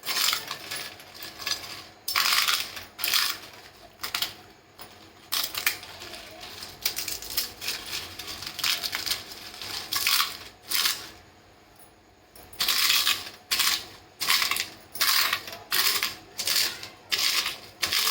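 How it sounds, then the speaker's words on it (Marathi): Crisp roasted papad is crushed by hand for a Rajasthani papad churi snack, giving bursts of sharp crackling and crunching in repeated clusters, close up, with pauses between. "आता हे पापड आहे ना अशा चुरून घ्यायचं"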